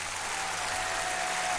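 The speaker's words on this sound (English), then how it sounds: "Round of applause for Georgina, please." Studio applause sound effect played on a radio talk show, a steady, continuous wash of clapping and crowd noise that holds at an even level for the whole moment, with no talking over it.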